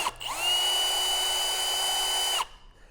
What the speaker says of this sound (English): I will cut it off once it gets a little worn and put it in a drill